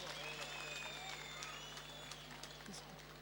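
Students in a university hall applaud graduating classmates at a 2011 graduation ceremony, a steady, distant wash of many hands clapping under a faint electrical hum, with whistle-like tones drifting through.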